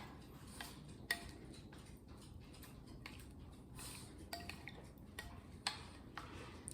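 A spoon clinks and taps irregularly against a bowl while salt is mixed into fresh homemade salsa, light scattered ticks over a quiet background with no speech.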